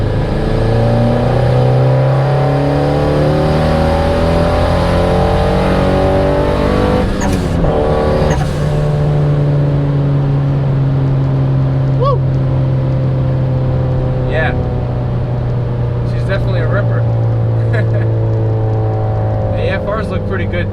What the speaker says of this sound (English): So we'll go into third gear here. See if we get a little rip going on.